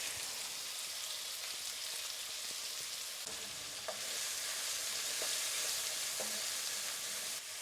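Diced onion fries for a paneer jalfrezi gravy, a soft continuous sizzle with occasional faint spoon taps, steady and fairly quiet throughout.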